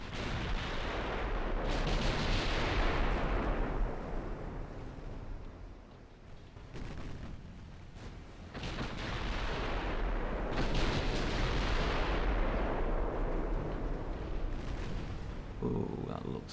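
Battleship naval gunfire in Ultimate Admiral Dreadnoughts: heavy booming salvos roll out in long, loud waves over a constant rumble, with a brief lull in the middle.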